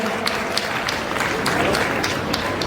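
A steady wash of audience applause fills a Jain kalash sthapana festival gathering, many hands clapping densely and continuously at fairly close range, with a few louder individual claps poking through.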